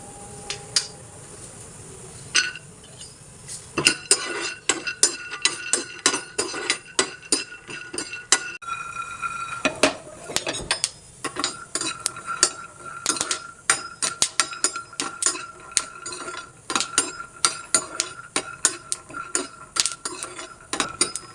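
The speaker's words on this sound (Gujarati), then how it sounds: "સૌ પહેલાં સિંગદાણા શેકી" Peanuts dry-roasting on a griddle pan over a gas flame: a spatula scrapes and stirs while the nuts rattle and tick against the metal in dense, irregular clicks that run throughout, with no talking.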